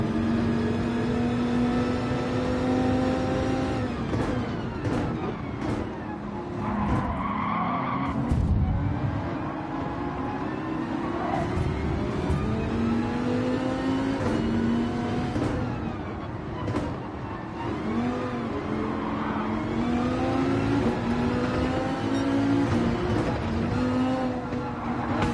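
A race car in Gran Turismo 7 screams through first gear, a loud, sustained engine roar rising and falling with repeated revs and shifts, mixed with tire squeal and skidding throughout.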